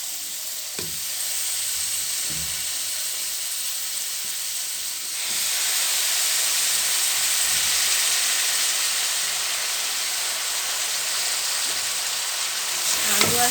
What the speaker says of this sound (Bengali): মশলাগুলোকে কষানো হয়ে গেছে, এখন দিয়ে দিব সব আলু এবং ফুলকপিগুলোকে।